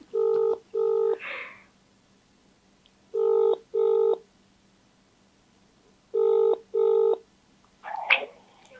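A phone call being dialed: three separate bursts of paired touch-tone beeps, evenly spaced with pauses between, each followed by a brief faint sound, against a quiet background.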